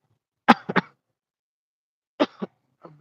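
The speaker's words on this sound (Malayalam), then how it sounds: "ചുമ നല്ല ചുമ" Two bursts of coughing, each a quick pair of harsh coughs, separated by a pause of silence, with a softer third cough trailing at the end.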